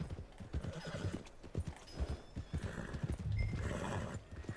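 Horse hooves clip-clop steadily in Red Dead Redemption 2, with whinnies and neighs rising over the footfalls near the stables, all close and fairly loud against a busy town background.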